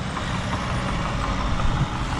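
A heavy truck engine rumbles steadily nearby at a sandy parking lot construction site, a constant low drone with a faint hiss above it and no talking.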